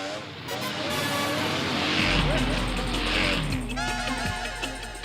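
A motorbike ridden by someone in an all-black outfit passes by, its engine noise rising into a loud, sustained roar that dominates the middle and end, with background sound around it.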